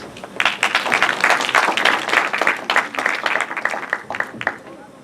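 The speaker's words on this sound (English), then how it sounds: "A round of applause, please." Applause at a conference for a closing speaker, a small audience clapping in uneven, individually distinct claps that are close and fairly loud, thinning slightly toward the end, with some speech mixed in.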